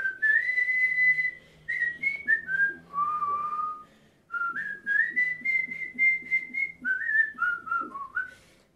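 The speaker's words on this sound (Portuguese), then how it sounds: "todo mundo vai conseguir assobiar, que é um pouquinho difícil" A person whistles a lively melody, clear and close, with quick pitch changes and a short pause midway, during a children's class.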